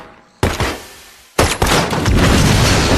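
Loud gunfire bursts in a dubbed action film, two sharp booming blasts followed by sustained dense firing and rumble, close and dominant with no talk.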